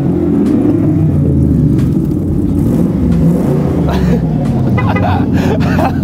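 A car engine idles and revs with a steady low rumble, close and loud, alongside a second vehicle started beside it, while people talk over it.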